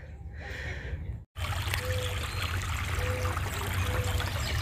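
A small stream trickles steadily beside the Appalachian Trail, its close, continuous watery rush filling the scene after a brief cut near the start, with faint short chirps above it and no talking.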